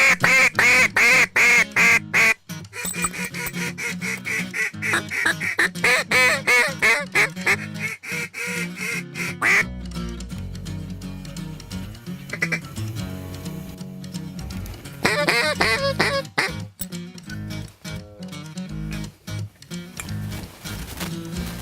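Mallard ducks quack repeatedly in loud, close, raspy runs of calls over decoys during a river hunt, with brief pauses and a short stretch of quieter, scattered sounds in the middle.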